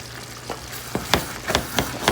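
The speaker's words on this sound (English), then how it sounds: "I'm not stirring my rice. I just came in and I'm scraping it." A spoon scrapes through Haitian-style okra rice in a cooking pot, with several short, close scraping strokes over a soft, steady sizzle.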